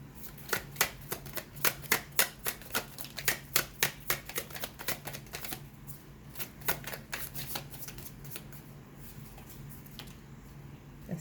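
Playing cards are shuffled and drawn in a steady run of quick riffling flutters, close and moderately loud, easing into softer shuffles and a few card flicks, with no speech.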